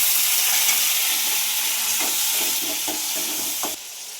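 Tomatoes and onion frying in oil, a dense continuous sizzle with several distinct stirring scrapes near the middle before the hiss drops slightly at the end.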